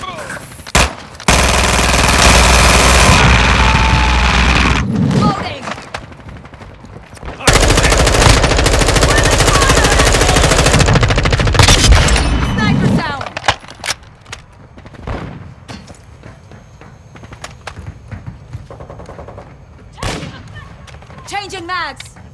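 Heavy automatic gunfire in Call of Duty: Modern Warfare II comes in loud sustained bursts, then thins to scattered shots while voices speak in between.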